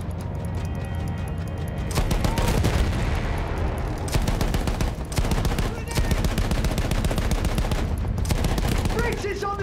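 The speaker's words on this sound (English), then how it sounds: "Continue suppressing fire!" Sustained machine-gun fire in a Battlefield 1 World War I battle hammers on without pause, loud and dense, mixed with booming impacts and distant shouting.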